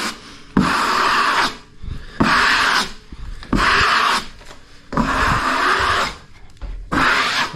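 A knife presses and smooths fibreglass mesh into a wall, five rhythmic rasping strokes each lasting about a second, close and loud with short pauses between them.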